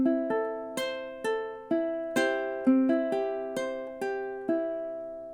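A ukulele is fingerpicked through the first measure of House of the Rising Sun, with bright plucked notes in a steady lilting triple pattern, each ringing and decaying, close and alone at a moderate level.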